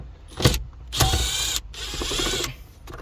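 A T20 screw being undone from a tab in the headliner of a 2011-2015 Dodge Charger: close, short bursts of ratcheting mechanical whirring in three spurts, loud and alone.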